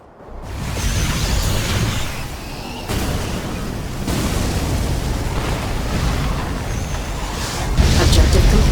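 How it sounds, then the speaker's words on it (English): An ion cannon strike in the video game Command & Conquer 3 hits with a loud, sustained roaring blast that rumbles on for several seconds, swelling again near the end. "Use the ion cannon to eliminate the base."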